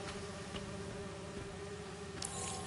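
Buzzing of bees in the video game Marvel's Spider-Man 2, a steady droning hum that continues throughout with a brief brighter rise near the end, and no talking.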